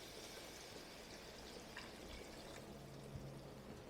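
About 500 milliliters of beef stock poured into shepherd's pie filling in a home kitchen, a steady quiet liquid stream with faint splashing lasting several seconds, no talking.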